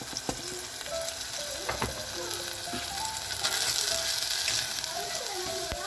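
Onions and meat sizzle steadily in a pan, with scattered clicks and scrapes of stirring over a constant bright frying hiss.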